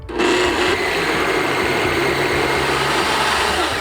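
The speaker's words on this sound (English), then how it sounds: "This blender is so powerful, it can blend up iPads." A powerful blender whirs loudly and steadily for about four seconds while blending an almond milk smoothie, a dense continuous roar with no talking.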